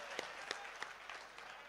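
A mushaira poetry recital audience gives a short burst of applause, a few distinct claps standing out from a soft, diffuse patter heard from a distance.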